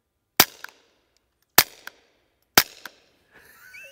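A suppressed SIG P322 .22LR polymer pistol fires three quiet shots at a bank outdoors, each a sharp, close crack about a second apart with a short echo trailing after, followed by faint background noise.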